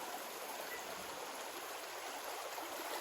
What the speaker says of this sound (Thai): นู่น น้ำไหลแรงมาก